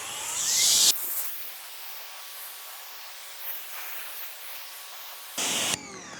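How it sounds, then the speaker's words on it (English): An EGO HPW2100 pressure washer rinses a car with short, harsh spray hisses at the start and near the end. A quieter stretch of faint background hum separates the bursts. "Now is when we want to do a nice thorough rinse."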